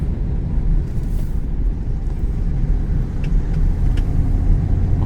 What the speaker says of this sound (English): downshifted, going down this little hill right here.